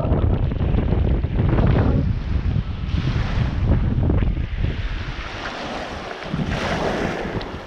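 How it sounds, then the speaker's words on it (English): Wind gusts over a bay on the coast, a loud, continuous rush mixed with surf and water noise, swelling and easing in waves, with buffeting on the microphone and no one talking. "I believe it's breezing up."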